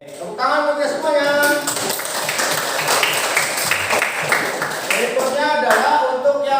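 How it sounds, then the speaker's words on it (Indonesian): Classroom applause for all the students during an Indonesian school lesson, a steady burst of clapping from many hands lasting several seconds, with some voices mixed in. "Tepuk tangan untuk semuanya."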